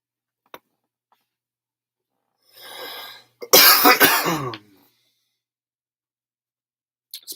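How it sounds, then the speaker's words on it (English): A single sharp chronic cough bursts out loud and close after a soft breathy exhale, with a faint tick before and after in an otherwise quiet room. "It's my chronic cough."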